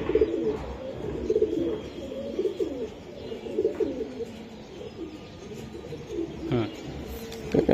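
Racing pigeons coo repeatedly in soft, throaty bursts, close by and continuous, over faint background noise with no talk.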